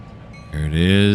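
An ethanol train in the Trainz 2022 railway simulator begins to move, a quiet hum giving way to a louder rising mechanical drone with tonal engine layers over the last half second.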